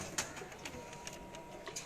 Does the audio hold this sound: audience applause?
no